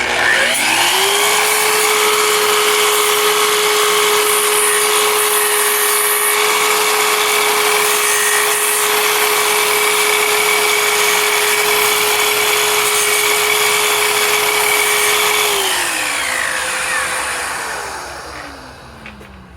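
A miter saw cuts a half lap joint in wood, with a steady loud high-pitched whine that runs unbroken for about fifteen seconds, then winds down as the blade coasts to a stop.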